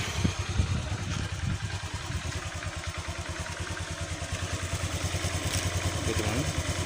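A Honda automatic scooter engine idles steadily close by, a loud, even low putter with a rapid regular pulse and light mechanical clatter throughout, with no talking.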